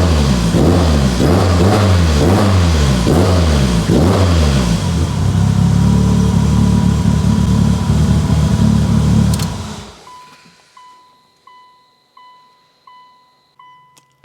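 A Mitsubishi Evo 8 engine runs loud and close with rhythmic revs that rise and fall, then cuts off, leaving a few fading chimes and ticks.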